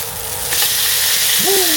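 Steak frying in a pan at a lakeside campsite, giving a loud, steady sizzle and hiss heard up close, with a faint whistling tone rising briefly near the end.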